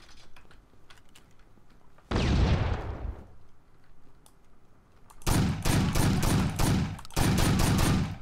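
Shotgun blasts and bursts of gunfire in the tactical shooter game Takedown: Red Sabre: a single loud, decaying boom, then a quieter pause, followed by a rapid string of close, heavy shots in two clusters.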